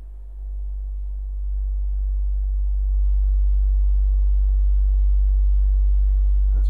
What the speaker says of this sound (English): Tang-Band 740P driver. I got it hooked up to a 49 hertz sine wave.